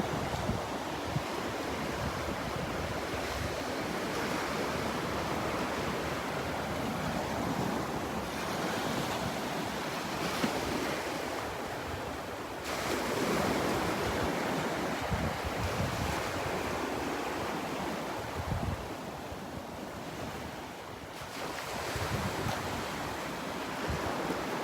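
Ocean surf washes along a beach shoreline at Vanderbilt Beach in a steady, broad roar, mixed with wind buffeting the microphone, continuous and fairly close with no voices.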